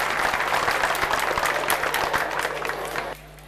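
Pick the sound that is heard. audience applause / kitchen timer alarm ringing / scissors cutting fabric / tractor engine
audience applause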